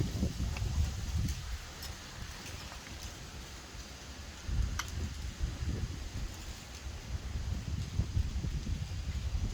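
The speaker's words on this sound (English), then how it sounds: "Ow, that wind" Outdoor wind buffets the microphone in uneven low rumbling gusts, swelling and easing over several seconds with no speech.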